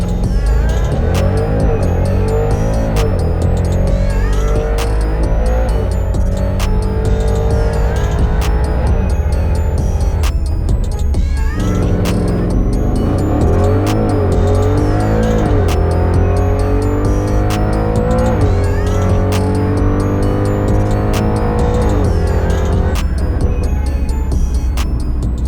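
Cars accelerate hard on a 400-metre drag run at Saint Joseph. Engines roar loud and close with rising revs and repeated sharp gear-shift breaks, continuous for about twenty-five seconds.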